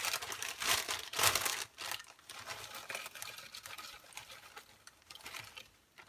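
Crisp pork rinds tumble and crinkle as they are poured into a Magic Bullet blender cup, a close, dry rustling clatter that swells in bursts and then thins out, with no talking.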